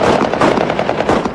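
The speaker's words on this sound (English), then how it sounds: "there was a little show of gunfire by his men to greet him" Rapid, continuous machine-gun fire from armed men in the Afghan mountains, a dense, loud burst of overlapping shots fired as a welcoming show.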